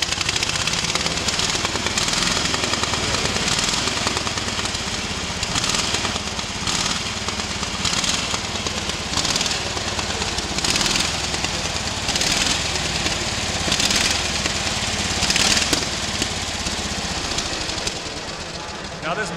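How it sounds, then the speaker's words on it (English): A 1913 Indian twin motorcycle engine runs loudly and steadily throughout, a rough, dense mechanical chatter with faint rhythmic pulses, while someone talks over it. "This machine right here is a 1913 Indian twin, and I'm gonna crank it up for you right now."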